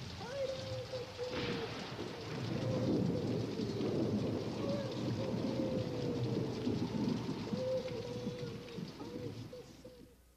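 Steady rain pours under low rumbling thunder, a continuous stormy wash used as a sound effect in a children's TV show, with faint tonal sounds running through it.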